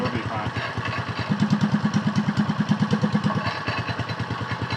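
Small mini bike engine with its governor removed runs at a fast, even putter, getting a little louder midway, while people talk over it.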